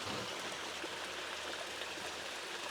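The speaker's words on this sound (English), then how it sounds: "it's just like a little tiny waterfall" A small waterfall stream in farm woods, water rushing and splashing steadily at close range, a continuous broadband wash with no voices.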